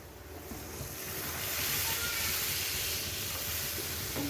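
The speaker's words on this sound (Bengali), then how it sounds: "এবার আমি জল দিয়ে দেব।" Water goes into a pan of frying chicken gizzard and liver, and a broad hiss of steam and bubbling swells over the first seconds, then stays strong and even.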